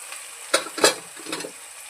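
Red chili powder, garam masala and coriander-cumin powder sautéed in a pan: a brief sizzle with three quick stirring scrapes, no talking.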